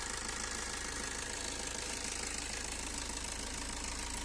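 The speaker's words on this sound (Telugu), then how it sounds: "ఇంజన్ సౌండ్ చూసుకుంటే మాత్రం ఈ విధంగా ఉందండి" A 2012 Maruti Suzuki Swift ZDi diesel hatchback engine idles steadily close by, with a continuous rough, knocking rumble and no talking.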